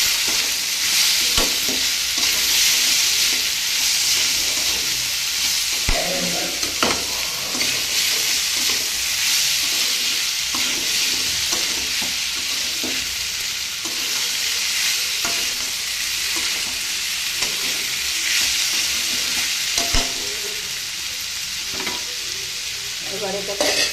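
Chickpea dal being stirred in a pan after salt goes in, a steady close sizzle with scraping stir strokes running throughout, no voices.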